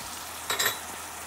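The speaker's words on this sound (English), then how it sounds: "We're gonna go in with our ginger." Ginger and garlic drop into a hot pan with a short sizzle and stir, close and brief, over a steady frying hiss.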